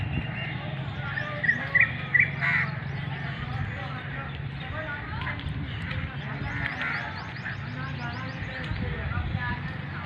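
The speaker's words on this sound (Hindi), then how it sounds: "परिंदों के चहचहाने की दिलचस्प और दिल फरेब आवाज़ सुनिए" Birds chirp and tweet around the leafy Bahawalnagar railway junction in Pakistan, with a few brighter calls early on and fainter chatter continuing under a low background murmur.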